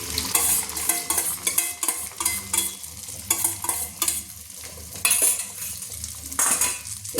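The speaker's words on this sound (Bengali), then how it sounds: "এইভাবে ডিমের ভুজিয়া আমি করে নিচ্ছি, এইভাবে নেড়ে নিচ্ছি।" Three beaten eggs frying and being stirred into a scramble in a pan for egg chowmein, with a continuous sizzle and repeated rhythmic scrapes and clinks of a utensil against the pan throughout.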